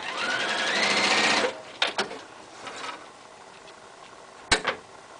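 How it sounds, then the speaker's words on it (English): A sewing machine stitches paper-pieced fabric in a rapid close-up whirring burst for over a second, followed by a few short clicks and one more brief pulse of the machine. "Then I'm going to sew that just like I would"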